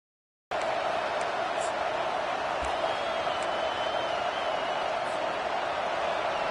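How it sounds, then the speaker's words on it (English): Stadium crowd noise in an American football video game, a dense steady roar that holds at an even level throughout and starts abruptly after a short silence. "the crowd really making some noise now"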